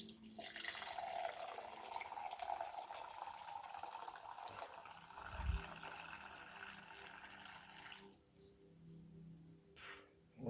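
Homebrew kombucha poured from a container, a steady liquid trickle running for several seconds, a brief low thump midway, then quieter near the end.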